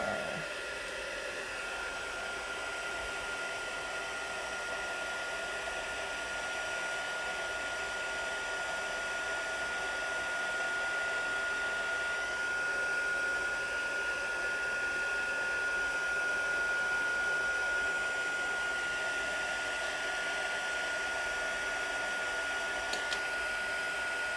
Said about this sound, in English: what you can do is speed it up by using your heat tool